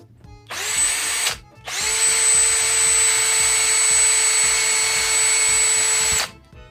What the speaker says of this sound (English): all you do now is put it into the end of the drill